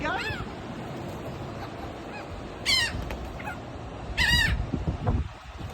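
Seagulls being fed at Hatteras on the coast, giving several loud, sharp cries over steady surf and wind noise, with a brief murmur of people nearby.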